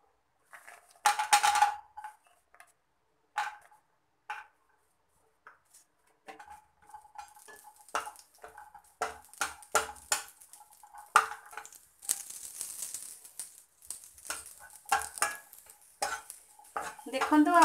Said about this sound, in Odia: ଘିଅ ଆମର ଗରମ ହେଇଆସିଲେ ଆମେ ସେଥିରେ ଏ କାଜୁକୁ ପକେଇକି ଫ୍ରାଏ କରିନେବା